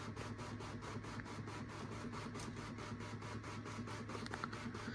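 Tandy DMP133 dot matrix printer running after being re-capped, a continuous buzzing print head chatter with rapid regular pulses and a steady low mechanical hum, close and alone.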